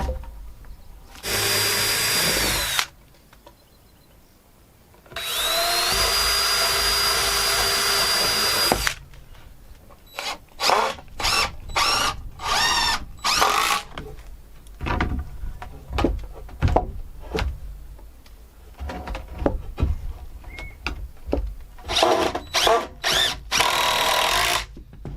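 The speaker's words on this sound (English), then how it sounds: "And pre-drilling as always." A power drill whirs in two long bursts pre-drilling wood while framing a cabin door, followed by a string of short, sharp taps and thuds with quick drill spurts near the end.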